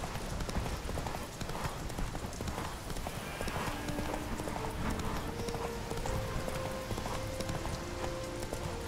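Rapid, steady hoofbeats of a galloping horse in the video game The Witcher 3: Wild Hunt pound continuously, with a soft musical tone drifting in underneath.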